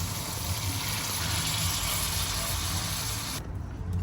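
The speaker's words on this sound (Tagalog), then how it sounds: "Tapos mabutan lang kita gamay nga tubig para malaga ano." Water is poured into a pan of ground pork being sautéed with black pepper for spaghetti, producing a steady close gushing and sizzling hiss that cuts off sharply near the end.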